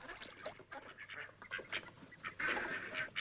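Ducks quack in a rapid, overlapping flock chorus, faint and somewhat distant, with no talking over the calls.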